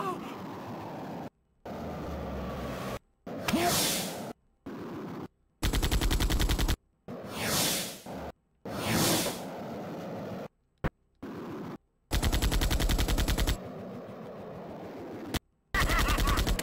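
Video game gunfire comes in loud, repeated bursts of rapid automatic shots, separated by abrupt silent gaps.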